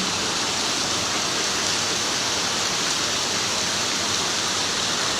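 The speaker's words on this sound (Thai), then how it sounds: "โคราชฝนตกแล้วครับ ที่ไหนฝนตกบ้างครับผม" Rain falls in Korat, Thailand, as a dense, even hiss that stays steady from start to finish with no voices.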